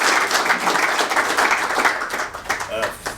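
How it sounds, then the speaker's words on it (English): A room of people claps for a guest speaker at a construction industry networking event, a dense wash of applause that thins out toward the end as a voice starts to come through. "a big round of applause to Mark for coming here today"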